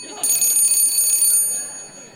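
A bright electronic bell rings in a quick, close burst of high chiming tones that fades out over about a second, heard during a comedy performance.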